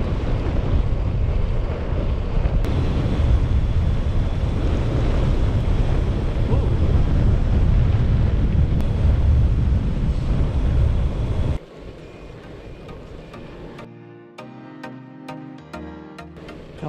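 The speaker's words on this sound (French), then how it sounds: "Couvert et venteux." Heavy, continuous wind buffets the microphone during a long-distance cycling ride on an overcast, windy day, a loud roaring rumble that drops off suddenly partway through, leaving quieter background sounds.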